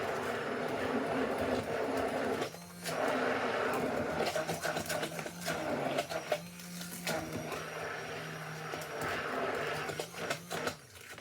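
An electric drink mixer whirring through cake batter, a steady close motor buzz that dips and stops briefly a few times, with light clatter between runs.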